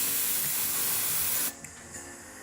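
Hairspray hisses in one sustained spray of about a second and a half onto styled Hollywood waves, close and fairly soft, and then it cuts off abruptly into quiet.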